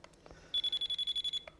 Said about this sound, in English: You should hear a beeping sound